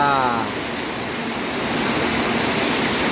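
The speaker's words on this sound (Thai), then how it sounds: "ฝนเทลงมาอย่างแรง" Dense, loud rush of heavy rain pouring steadily, a broad hiss filling the whole stretch without letup.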